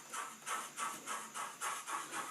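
A model train runs with a steam sound effect, giving a rhythmic, evenly spaced chuffing hiss, about seven puffs in quick regular succession, fairly faint and with no talking.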